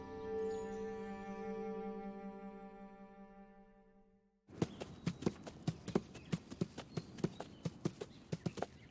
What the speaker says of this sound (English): That horse.